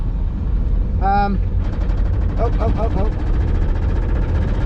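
A Toyota MR2 with a 5SFE engine and stock 5-speed transmission drives along with a steady low engine drone and road rumble, while a voice speaks briefly over it.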